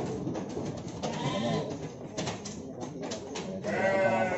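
A ram, a male sheep, bleats at close range in a long, wavering call at the end, over a busy background of farm clatter and muffled voices.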